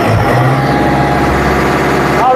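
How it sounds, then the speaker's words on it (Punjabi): A Farmtrac 6055 CRDI 60 hp tractor idles steadily nearby, a loud, even diesel rumble with a constant low hum throughout. "ਕਿੰਨਾ ਪਿਆਰਾ ਸਾਊਂਡ ਆ ਟਰੈਕਟਰ ਦਾ"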